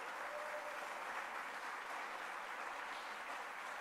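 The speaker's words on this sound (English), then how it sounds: "Give them a round of applause." Audience at a city's State of the City address applauding elected officials, a steady, even wash of many hands clapping, fairly distant and uninterrupted throughout.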